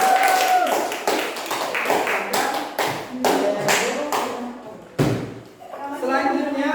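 A classroom group claps for a student group during a teaching practice lesson, several bursts of hand claps and taps with voices mixed in, fairly loud and close.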